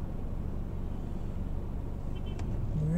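A car passes through a road intersection in Vladimir, Russia, a steady low engine and tyre rumble that swells slightly toward the end over background traffic noise.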